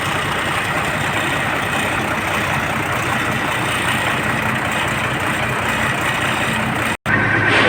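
A Mitsubishi truck engine idles steadily after being started, a loud, continuous low diesel rumble with a brief dropout near the end before the running engine resumes.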